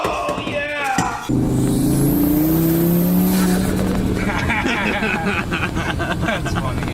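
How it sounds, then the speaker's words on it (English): A sheriff's car passes close by a parked Mk7 GTI under repair, its engine rising then fading, loud over workshop noise with some talk. "We're getting passed by the sheriff."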